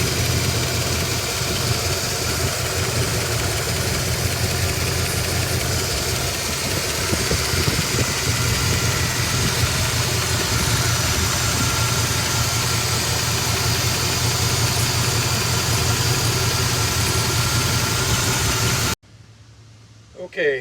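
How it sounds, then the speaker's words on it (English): A classic car engine idles steadily and loudly for about nineteen seconds, a constant rumbling drone, then cuts off abruptly to near quiet with a brief noise at the very end. "Engine at idle."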